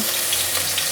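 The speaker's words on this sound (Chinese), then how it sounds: "锅内放入油，热锅冷油放进来，姜末10克，芹菜末10克放进来爆香" Minced ginger and celery sizzle in hot oil in a wok, a steady, close, dense frying hiss lasting under a second with no voices.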